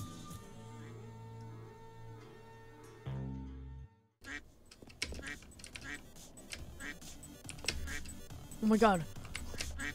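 Duck quacks from a Roblox bird game rise over busy game music and effects, while a player talks excitedly throughout.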